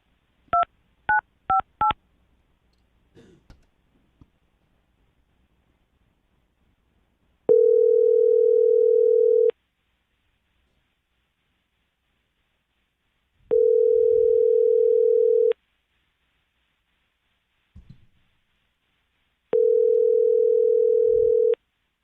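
A telephone call is placed: a quick burst of touch-tone dialing beeps, followed by three long, steady ringback tones separated by silent pauses, clear and alone.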